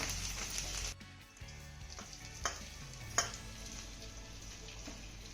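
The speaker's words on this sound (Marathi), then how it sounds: "कट केलेल्या वड्या यामध्ये घालूया" Cut rice vadis tossed into a sesame and coriander tempering and stirred as they fry, a soft sizzle under scraping spoon strokes with a couple of sharper clinks against the pan.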